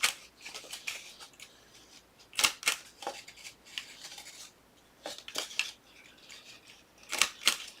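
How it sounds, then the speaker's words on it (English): A corner rounder punch bites through a small Mentos cardboard box several times, each crisp snapping chomp standing out sharply. The sound is close, quiet and clear, with short gaps between the cuts. "Corner rounder. So just kind of chomp that as best you can."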